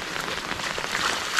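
Steady rain pattering on rice paddies in the Laos countryside, a dense continuous hiss of drops with no voices, close and even throughout.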